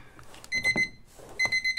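Alarm clock sounding two short bursts of rapid high-pitched beeps, close and fairly loud, separated by a pause with faint room noise.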